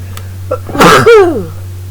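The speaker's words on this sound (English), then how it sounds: "hold on, 1 second, sneeze coming" A single loud sneeze follows a short sharp intake of breath, close and clear against a faint steady hum.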